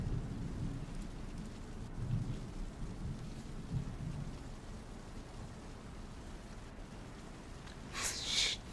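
A thunderstorm in the game Valheim gives steady rain hiss with low rolling thunder rumbles, then a sharper crack near the end, with no speech.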